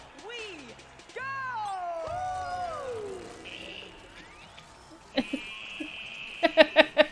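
A cat meows repeatedly in rising and falling cries during a game showcase stream, loud and close, with voices and other game sounds around and a burst of sharp clicks near the end.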